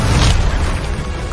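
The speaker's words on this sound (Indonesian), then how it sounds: "Terjadi ledakan terus-menerus dalam pertempuran antara keduanya" A dense explosion effect erupts in battle narration, a loud rumbling boom with crackling debris that rolls on steadily for over a second.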